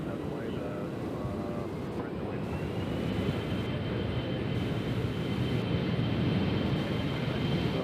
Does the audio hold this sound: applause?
no